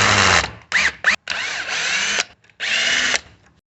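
A power tool drives out hex head bolts on a Redmax HTZ2460 hedge trimmer handle, close and loud, with several short whirring bursts of the motor separated by brief stops and pitch shifts as it spins up and down.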